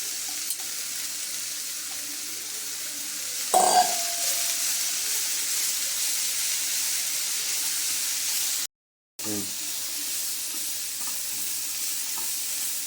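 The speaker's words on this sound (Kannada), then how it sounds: "ಈಗ ಈ ಪಾಲಕ್ ಸೊಪ್ಪು ಒಂದು ಕೈ ಹಿಡಿದು ತೊಗೊಂಡಿದ್ಮೇಲೆ ಅದನ್ನು ಇದಕ್ಕೆ ಹಾಕೊಂಡ್ಬಿಡ್ತಾ ಇದ್ದೀನಿ" Fresh spinach leaves dropped into a hot pan and stirred, a brief burst of sizzling when they land, then steady frying and stirring continuing, with a short silent gap partway through.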